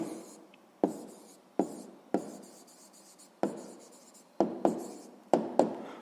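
Pen or pencil writing numbers on paper in a school notebook during a 6th-grade maths lesson, with repeated short sharp taps and scratchy strokes, close and clear, no talking.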